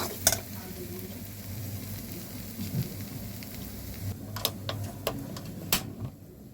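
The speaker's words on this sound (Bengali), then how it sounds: "এইভাবে কিছুক্ষণ নাড়িয়ে নিতে হবে" Food fries in a pan under a low sizzle while a utensil stirs, giving sharp taps and scrapes against the metal that come more often toward the end.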